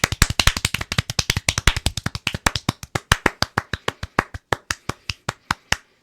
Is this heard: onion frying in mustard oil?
no